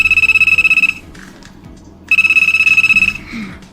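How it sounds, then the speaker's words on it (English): A cell phone in the game LOVE³ -Love Cube- rings with a bright, rapidly pulsing electronic tone in two loud bursts separated by a short pause, followed by a soft rustle. "Your cell phone is ringing."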